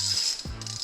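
A wrench turning a stuck bolt during a 5.7 Hemi engine teardown: two short mechanical ratcheting clicks with a gear-like rattle, close and alone.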